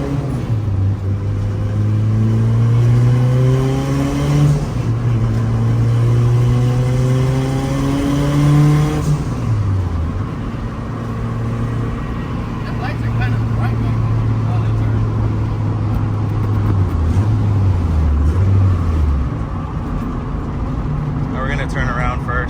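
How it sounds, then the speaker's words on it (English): Turbocharged Honda hatchback with an F20B engine and GT35 turbo accelerating hard toward the rev limiter, engine note climbing through gears with pitch drops at each shift, loud and close from inside the car, with a voice briefly audible. "we're gonna go ahead and try to get it all the way to the limiter"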